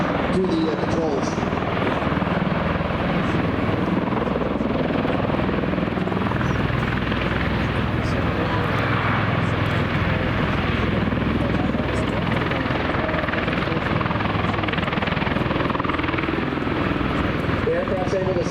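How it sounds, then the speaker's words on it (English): A Marine MV-22 Osprey tiltrotor flying a demonstration at an air force base gives off a loud, continuous roar of engines and rotors that fills the whole stretch, with someone talking over it. "The aircraft's able to slide left to right there simply by changing the amount of power it's putting into each of those engines and tilting the rotors"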